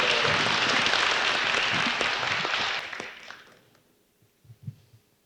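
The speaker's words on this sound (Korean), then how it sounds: "박수 한번 다시 보냈어요" A Korean book-concert crowd claps in a full, dense burst that tapers off and fades out partway through, leaving near silence with a few soft thumps.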